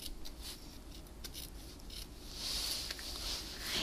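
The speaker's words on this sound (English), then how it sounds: "Then I'm going to take a lace doily and my pair of paper snips, and I'm going to cut my doily in half." Paper snips cut through a lace doily for card making, giving a run of light, close snipping and crinkling paper sounds that build slightly toward the end over a soft background hiss.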